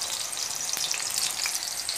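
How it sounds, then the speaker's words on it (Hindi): Potatoes fry in hot oil with a dense, steady sizzle and crackle, close and continuous for the whole stretch with no talk. "अब हम आलू को फ्राई कर लेते हैं।"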